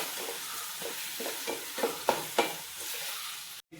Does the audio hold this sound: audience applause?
no